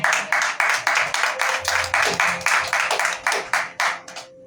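A church congregation claps in unison during a Spanish-language sermon, a steady rhythmic beat of about four claps per second that fades out at the end, with faint voices beneath.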